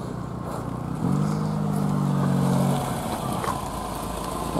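A Kia Rio car pulls away on a street, its engine note rising into a steady low drone for a couple of seconds before easing off, over continuous traffic background.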